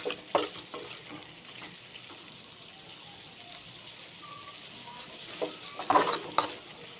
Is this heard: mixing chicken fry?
yes